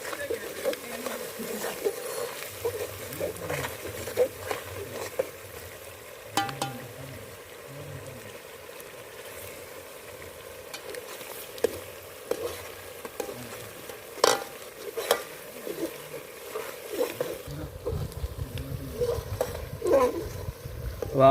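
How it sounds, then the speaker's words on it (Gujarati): Spices and turmeric are stirred as they fry in a pan of oil for Gujarati eggplant olo, a steady close sizzle broken by scraping spoon strokes and clinks, with a louder frying burst near the end. "હલાવી નાખશું"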